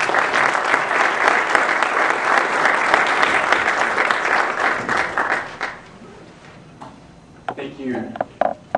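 Audience applause greeting Dr. Warren Kinghorn at a History of the Health Sciences lecture, steady and dense for about five seconds, then thinning into scattered individual claps as it fades out.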